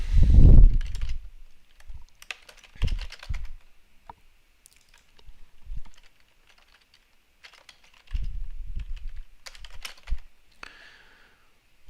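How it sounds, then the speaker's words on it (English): Someone typing code on a computer keyboard in short bursts of rapid clicking keystrokes separated by pauses, close and clear, with a heavier thump at the start and no talking. "I'm going to go ahead and type it out now"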